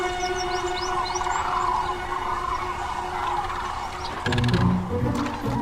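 Flock of cranes calling at a shallow river roost during migration, a continuous chorus of overlapping rattling bugles with a louder burst of calls near the end, dense and mid-distance.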